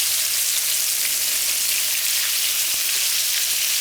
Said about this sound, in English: you just flip it and let it fry